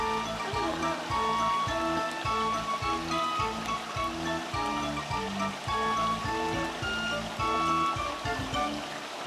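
Rain falls beside a flowing stream, producing a steady, continuous wash of water that stays full and close throughout.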